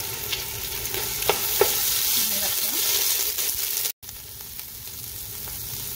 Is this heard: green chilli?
yes